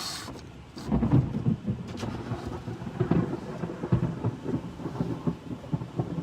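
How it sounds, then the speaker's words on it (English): Heavy thunder rumbles continuously over steady rain during a severe storm with rotation, loud and enveloping with repeated low rolling booms and no voices. "What a storm."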